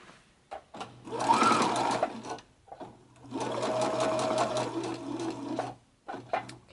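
A sewing machine stitches a half-inch seam on a fabric messenger bag in two sustained runs, close and steady, separated by a brief pause, with short clicks and handling sounds around them.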